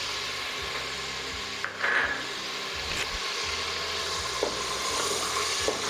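Ginger and garlic frying in a pan for a turnip and meat curry, a steady close sizzle with a few soft scrapes and taps, and a low background hum underneath.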